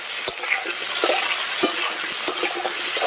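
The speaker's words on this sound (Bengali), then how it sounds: "আলুগুলোকে সবার প্রথমে শুধু নুন দিয়ে ভালো করে একটু ভেজে নেব।" Small potatoes frying with salt in mustard oil, with a steady sizzle and repeated stirring scrapes close by, no voices.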